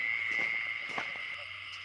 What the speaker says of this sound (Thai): เสียงกบเนี่ย